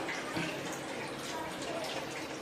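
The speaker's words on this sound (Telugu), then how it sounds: "నీళ్ళు పోసేయాలండి మునిగేలాగా." Continuous rushing splash of water being poured into a pot of goat leg soup (paya), steady and close, with no pauses.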